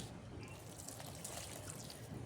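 Water left over from washing rice is poured onto garden plants, a soft steady trickle and splash running continuously at close range with no talking.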